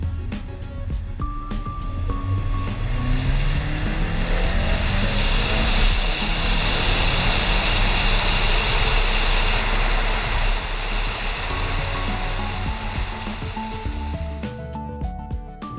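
A 10th-generation Honda Civic EX Turbo drives with a steady, loud engine and road roar that holds throughout. A shifting drone rises and falls over a broad wash of wind and tire noise.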